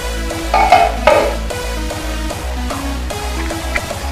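Mochai payaru kara kuzhambu, a bean curry, simmers in a pot on the stove while a spoon stirs and scrapes against the metal in a few clear strokes, over a steady bubbling hum with a regular mechanical pulse.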